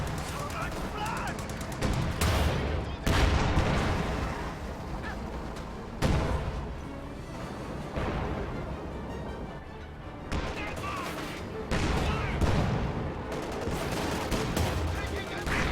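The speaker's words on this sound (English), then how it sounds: "They're shooting at us!" Dense video game battle gunfire rattles almost without pause, with heavy booming shots and sharp bursts, loud and continuous under occasional talk.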